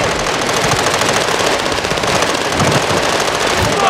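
Loud, continuous automatic gunfire from Call of Duty Warzone fills the whole stretch with rapid repeated shots, dense and close, with brief voices faintly underneath.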